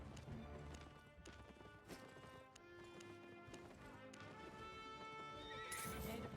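A horse mount in the Albion Online video game clip-clops steadily and gives several loud neighs and whinnies, heard alone and fairly close.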